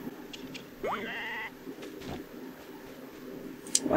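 A sheep in the Story of Seasons farming game gives one short bleat, clear and close, followed by quieter game sound effects and a sharp click near the end.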